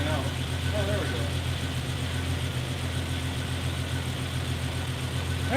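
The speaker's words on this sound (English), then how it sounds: "That engine sounds great, by the way." A car engine idling, a steady low hum with a faint mechanical rumble held at even loudness throughout, with a voice briefly audible in the background.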